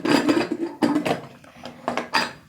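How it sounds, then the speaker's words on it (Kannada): A pressure cooker lid is fitted and locked shut with a series of clattering metallic knocks and scrapes, close and fairly loud, in a kitchen with no talking. "ಈಗ ಕುಕ್ಕರ್ ಲಿಡ್ಡನ್ನು ಕ್ಲೋಸ್ ಮಾಡಿಬಿಟ್ಟು"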